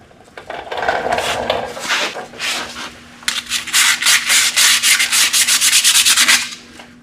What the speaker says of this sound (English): Use some sandpaper to clean the rust off the face of the flywheel.